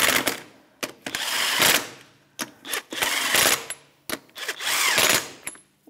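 A power tool with a 21 mm socket snugs the wheel lug nuts on a 2013–2018 Toyota RAV4 in a series of about six short, loud, close whirring bursts separated by brief pauses.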